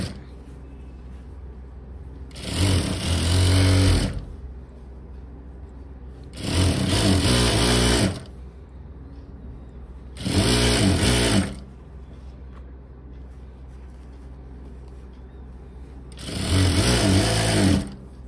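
Sewing machine stitching the seam of a formal pant in four separate bursts of rapid mechanical whirring, each lasting one to two seconds, separated by quiet pauses.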